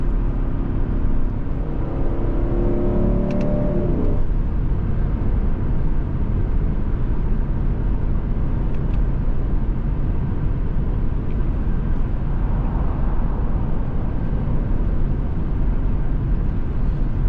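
A 2021 Lexus LC500 Roadster's engine accelerates in a continuous loud, deep roar heard from inside the car, with a brief rising note early on before it settles into a steady drone.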